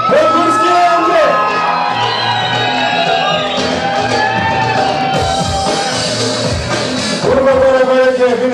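A crowd at a student freshers' ball shouts, whoops and cheers loudly and continuously, with voices calling over music throughout and a fresh swell of cheering near the end.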